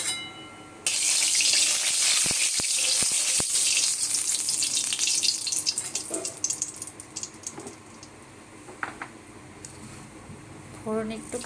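Oil goes into a hot wok for frying moya fish, giving a loud, steady hiss and crackle that fades into intermittent sizzling pops, with a few sharp clinks of utensils.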